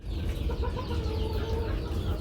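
Native chickens on a Bengali poultry farm cluck and murmur continuously at close range, several birds overlapping in a busy, unbroken chatter.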